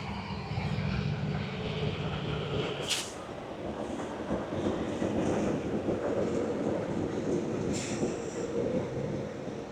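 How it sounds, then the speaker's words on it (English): Train locomotives pass by as a steady, broad rumble with rolling rail noise that lasts throughout. Two brief high squeals cut through, heard from a moderate distance. "Only the locomotives."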